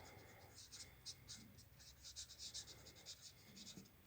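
Someone writes a word by hand on a classroom board during a French lesson. It comes through as a quick series of short, scratchy, faint strokes close by, with a soft voice murmuring underneath.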